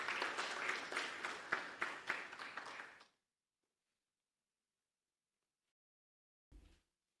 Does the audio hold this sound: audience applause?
yes